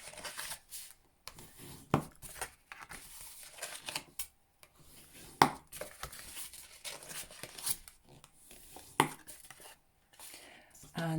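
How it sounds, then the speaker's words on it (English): Paper sheet from In Good Taste designer series paper being folded along score lines and rubbed flat with a bone folder, giving scattered crisp creases, rustles and sharp scraping strokes at close range with quiet gaps between. "with your bone folder, starting with this sheet first, fold and burnish all of your score lines"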